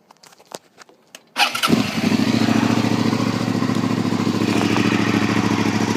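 Suzuki SV650S motorcycle with aligned throttle bodies firing up: a few faint clicks, a brief starter whir, then the V-twin catches and settles into a loud, steady, rumbling idle close by.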